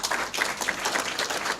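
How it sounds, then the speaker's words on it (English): A gathering at a government agreement signing in Saint Lucia claps in a steady round of applause, many hands close and fairly loud, an even texture with a few crisper claps standing out. "They deserve a round of applause"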